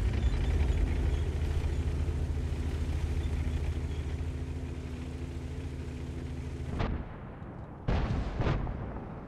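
Tank cannon fire and shell impacts from World of Tanks gameplay with a Conqueror GC: a long loud rumbling roar of gunfire that cuts off sharply near the end, followed by two short heavy bursts.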